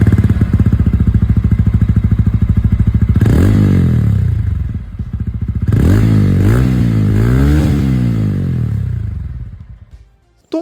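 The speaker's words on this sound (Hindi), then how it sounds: "इसकी यहाँ पर जो एग्जॉस्ट साउंड है वो भी मैं आप लोगों को सुना दूँ।" A TVS Ronin 225 motorcycle's exhaust rumbles loud and close at idle, then is revved in two bursts of rising and falling engine pitch before settling back and cutting off at the end.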